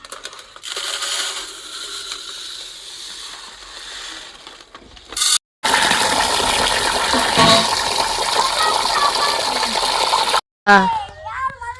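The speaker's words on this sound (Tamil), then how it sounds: "அதுக்கு முதல்ல அரிசியை ஊற வச்சுக்கலாம்" Water runs and splashes into a vessel of rice being set to soak for biryani in a home kitchen, a steady close rushing broken by two brief cuts, with a voice speaking over it.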